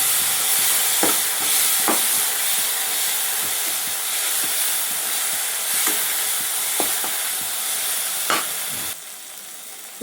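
Idli manchurian with red chilli and tomato sauces fries in a pan with a steady, loud hiss close by. Occasional spatula scrapes cut through before the sizzle drops softer near the end, with no voices.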